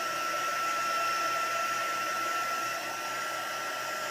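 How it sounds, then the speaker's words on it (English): A hairdryer runs continuously close by, drying a chalk transfer on a craft piece made from an old saw, with a steady whooshing airflow and a thin motor whine and no pauses or talking. "you can use a hairdryer."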